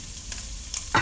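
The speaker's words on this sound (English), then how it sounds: "because I keep having to stir that pasta constantly" Pasta being stirred in a hot pan with diced beef, a soft steady sizzle broken by a few brief scraping stirs and a louder clatter at the end, with no one talking.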